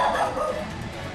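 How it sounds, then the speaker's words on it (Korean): A dog barks and yips indoors in a home, a short loud burst close by with some whimpering tone. "오랜만에 들어오자마자 막 짖는 소리가 들리는데"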